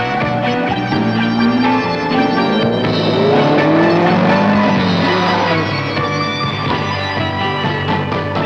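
Vintage 1976 Canberra Rally cars thrown hard into corners in daylight, loud engines revving and rising in pitch with squealing, skidding tyres, several sweeping passes close by with no talk.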